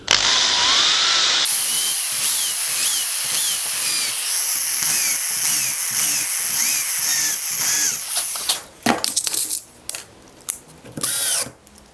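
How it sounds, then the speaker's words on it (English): A power drill bores pilot holes and drives screws into wood for a router edge guide jig. Its motor whines up and down in repeated rising sweeps, then ends in several short, choppy bursts. "it's just a case of boring a few pilot holes and driving a few screws"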